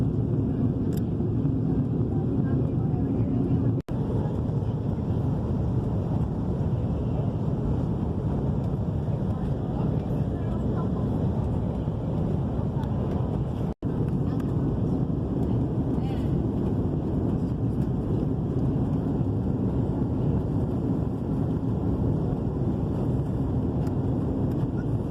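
Inside the cabin of an Airbus A330 on its landing approach to Miami, a steady, loud, even roar holds without letup for the full stretch. Faint voices may sit beneath the noise.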